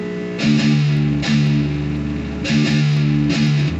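Heavy distorted electric guitar chugs in two bursts, each a quick cluster of palm-muted low notes ringing out, loud and close with no voices.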